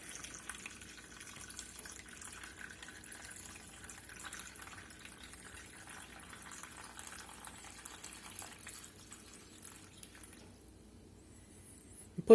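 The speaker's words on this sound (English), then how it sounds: "Let's get us some broth in here" Broth is poured into a gravy pan in a faint, steady trickle of liquid that runs for several seconds, heard alone with no talk.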